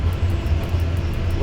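Old-school Russian-style locomotive running in the SimRail railway simulator, a loud steady low engine drone with a constant rumble, no voices.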